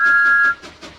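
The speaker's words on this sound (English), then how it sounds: "Thomas pretended not to see and whistled gaily to make Trevor happy" Thomas the Tank Engine, a cartoon steam engine, gives a single short, bright whistle, loud and steady for about half a second before breaking off into soft chuffing.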